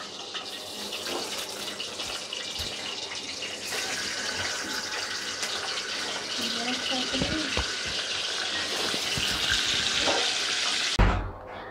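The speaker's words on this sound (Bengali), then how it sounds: "আমরা এভাবে আস্তে আস্তে সবগুলো মাংস ভেজে নেব।" Pieces of meat for a roast fry in a pan with a continuous, fairly loud sizzle and hiss, interrupted by a brief clatter just before the end.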